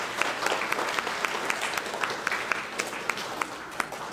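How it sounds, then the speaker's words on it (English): A school graduation audience gives a round of applause, brisk even clapping with distinct individual claps popping out over the steady crowd wash. "give them another round of applause,"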